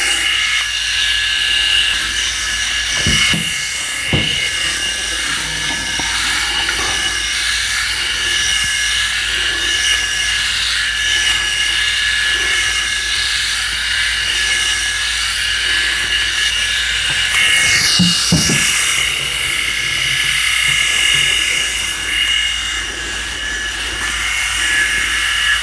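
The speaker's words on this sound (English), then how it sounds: "I just want to put the 5000 series on at the same time." Philips 5000 and 9000 series electric head shavers run at once, a steady high-pitched motor whine and buzz throughout, with a few brief rubbing or handling sounds over the hum.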